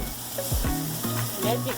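Red onion sizzling and crackling in a hot pan during a stir fry for sweet potato noodles, a steady close fry broken by a few quick bursts as it is stirred.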